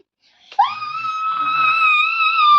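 A child imitates a jackal's howl with one long, rising, sustained wail, loud and close.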